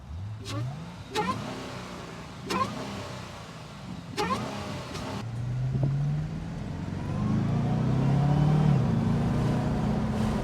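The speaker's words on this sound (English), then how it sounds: "Now you can hear the whine." Cadillac CTS-V fitted with an Airaid intake, revving with a supercharger whine: several sharp throttle blips, then a sustained climbing rev as the car pulls away, fairly close and without talk.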